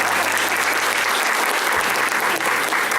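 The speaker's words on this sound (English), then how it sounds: "Clap again for yourself." A roomful of young women at a UN Resident Coordinator visit in Zambia bursts into steady, close applause, dense clapping that carries on evenly for a few seconds.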